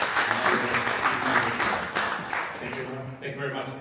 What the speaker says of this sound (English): Round of applause for Luis